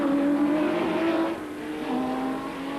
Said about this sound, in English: Glorious Porsche flat 12 engine, of course.